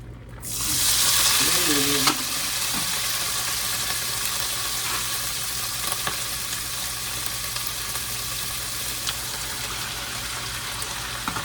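Pork chops frying in hot bacon grease in a pan, a loud steady sizzle and crackle that bursts in near the start and then holds on evenly, close by, with no talking.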